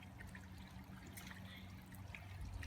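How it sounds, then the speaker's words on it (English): Water drains from a backyard koi pond in Minnesota with a steady trickling, gurgling flow and a low pump-like hum beneath, faint and continuous. "I'm just draining the water in the backyard"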